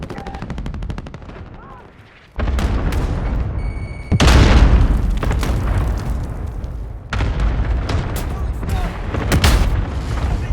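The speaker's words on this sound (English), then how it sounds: "Enemy cluster strike. Take cover." Cluster strike explosions boom in Call of Duty: Modern Warfare during a large ground war battle, a loud, continuous barrage of blasts and gunfire in several surging waves, with voices calling out in the game.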